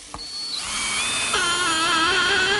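A power drill bores an angled pilot hole into wood for long three-inch screws, its motor whining up in pitch and holding a steady, loud, close high drone.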